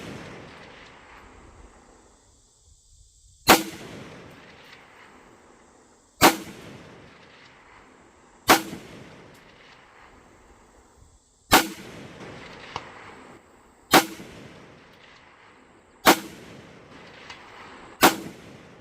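A Romanian MD63 rifle fires single shots downrange outdoors, eight sharp loud cracks spaced a couple of seconds apart, each followed by a short fading echo.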